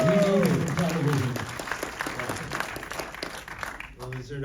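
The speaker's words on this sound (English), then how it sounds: "Round of applause for Robert." Audience applause for Robert Smigel at a Q&A for the animated film Leo, a steady broadband patter of many hands that starts loud and gradually thins, with voices over it at the start and near the end.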